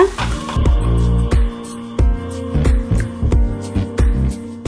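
A bread snack mixture is chopped and stirred in a hot pan, with steady rhythmic spatula clacks against the metal over a constant low sizzle.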